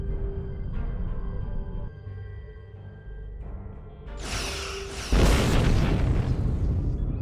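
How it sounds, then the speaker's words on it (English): Starship weapons fire and explosions from the space game Star Trek Online: a low rumble builds, then a loud broadband blast hits about two-thirds through and keeps roaring to the end. "Target that ship, and fire all weapons!"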